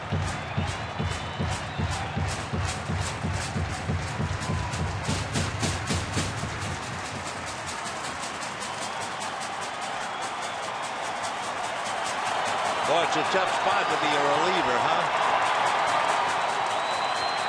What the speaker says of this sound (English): On the road, crowd going wild